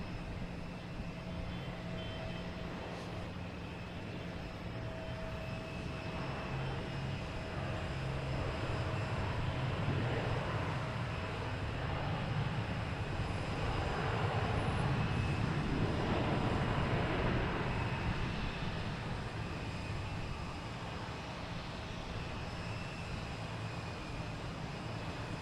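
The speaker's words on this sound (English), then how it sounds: "Coming in from London Heathrow at 777." A Boeing 777 arriving from London Heathrow lands at Boston Logan, a distant engine roar that builds to a broad rumble mid-clip and then eases, with faint steady tones and ambient airport noise beneath.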